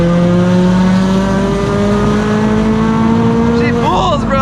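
A turbocharged Subaru BRZ running E85 at 10 psi boost, about 350 wheel horsepower, pulling hard, its engine note droning loud and steady from inside the cabin with the pitch climbing slowly, then a quick shift-like dip near the end.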